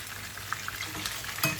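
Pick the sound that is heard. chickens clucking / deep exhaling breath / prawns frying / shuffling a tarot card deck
prawns frying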